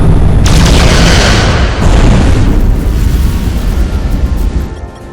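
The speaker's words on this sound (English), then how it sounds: "Fire photon torpedoes!" Photon torpedoes fire in Star Trek: Resurgence as a loud, deep booming blast that swells and then rumbles away over several seconds.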